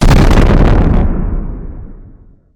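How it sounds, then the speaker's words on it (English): A Hellfire missile warhead detonates against a fiberglass boat: a loud, close blast hits at once, then its broad rumbling roar decays steadily over about two seconds to silence. "The warhead detonates instantly"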